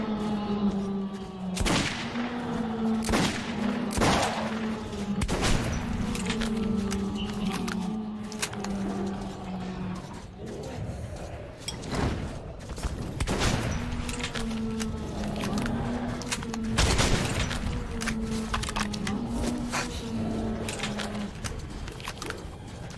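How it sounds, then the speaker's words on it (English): Pistol gunfire in the Metro 2033 Redux video game, heard as a string of sharp, loud shots at irregular intervals over a steady droning game soundtrack, with no talking. "I recommend picking them off with a pistol at a distance."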